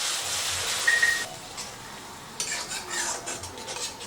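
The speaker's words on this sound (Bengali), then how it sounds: "তো দইটা দেওয়ার পরে অনবরত নেড়ে যেতে হবে।" Yogurt being stirred into paneer bhuna masala in a pan, with a gentle sizzle, soft scraping of a utensil and an occasional light clink.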